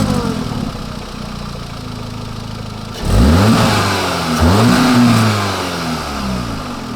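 Car fitted with an OEM Plus induction kit cranks and fires, then revs up twice in quick succession before settling, loud and close, over a steady background hum beforehand.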